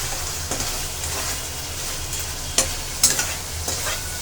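Fish curry of rohu with eggplant stirred in a pan, a constant sizzle under a few scraping strokes of the spoon and sharp clatters of the utensil, close and alone.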